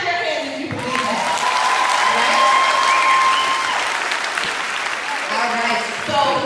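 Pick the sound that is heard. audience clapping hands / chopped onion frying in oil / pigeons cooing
audience clapping hands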